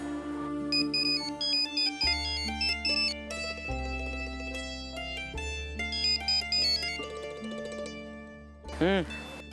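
A mobile phone's melodic ringtone plays on and on for about nine seconds, steady and fairly quiet, during a scene in a Marathi television serial.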